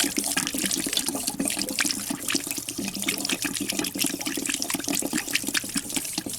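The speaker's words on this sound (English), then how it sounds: "I was gonna stick this tube up in there, see if I can be able to blow some air bubbles in there" Steady bubbling and gurgling as air is blown through a tube into water, continuous and close, with no one speaking.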